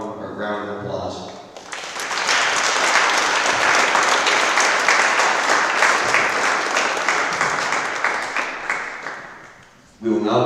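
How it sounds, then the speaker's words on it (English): A banquet audience at an FFA chapter event applauds Ron, loud dense clapping swelling up after a moment of speech and holding steadily before dying away, with a voice returning at the end. "Please help me in giving Ron one round of applause"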